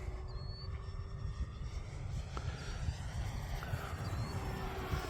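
A model airplane flies overhead above a cricket pitch, a faint steady engine drone carried on the wind over constant outdoor noise.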